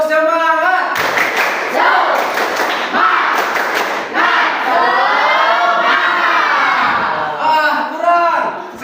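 A group of teachers in a training session performs a rhythmic spirit clap, sharp clap bursts alternating with loud chanted group shouts, close and energetic throughout.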